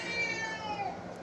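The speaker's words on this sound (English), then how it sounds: "Really old cat there." An elderly cat meows in a single drawn-out, wavering cry lasting about a second, close and fairly loud, with no other sounds around it.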